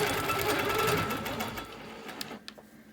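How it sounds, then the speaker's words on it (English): A sewing machine free-motion quilts a circle on a wholecloth quilt, whirring loudly and continuously up close, then slowing and trailing off into a few faint, scattered stitches. "I'm going to move the ruler out of the way, and I'm going to free motion a circle."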